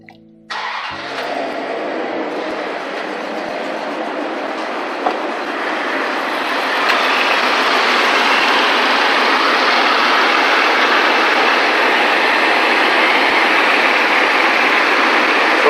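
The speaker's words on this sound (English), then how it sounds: "I'm gonna start the engine." A 1996-1999 Dodge Dakota 4x4 with a 5.2 L V8, just fitted with a new thermostat, cranks briefly and fires, then settles into a loud, steady, close idle with a hissing broadband roar.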